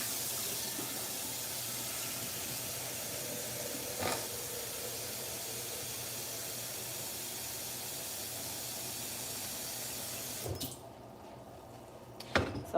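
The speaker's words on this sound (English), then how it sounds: "So let me rinse out this pan here." Kitchen faucet running steadily as a pan is rinsed in the sink, a continuous hiss of water with a few light knocks from the pan, and the flow cutting off near the end.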